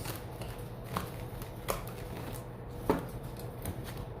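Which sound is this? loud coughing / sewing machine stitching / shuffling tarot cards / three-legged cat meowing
shuffling tarot cards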